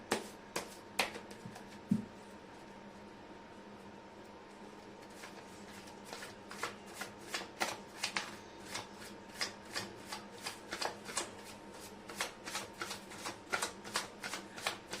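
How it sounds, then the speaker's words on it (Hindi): Tarot cards being shuffled by hand near the mic: a steady run of crisp flicking and riffling strokes that grows denser and more rhythmic as it goes, with no talking. "मैं कर लेती हूँ कार्ड की शफलिंग।"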